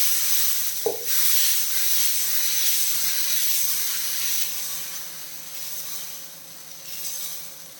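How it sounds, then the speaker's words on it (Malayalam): Chickpea dosa batter meeting a hot oiled dosa pan, giving a loud sudden hiss of steam and sizzle that settles into a steady sizzling spread, with no talk. "ദോശ പാൻ ചൂടായിട്ടുണ്ട് കുറച്ച് ഓയിൽ യൂസ് ചെയ്ത് കൊടുക്കാം എന്നിട്ട് നമുക്ക് മാവടിച്ചു കൊടുക്കാം"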